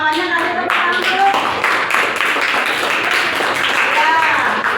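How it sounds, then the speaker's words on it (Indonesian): Students in a classroom clap together in a dense, steady burst of applause lasting several seconds, with children's voices chattering and calling out over the clapping. "kasih tepuk tangan dulu"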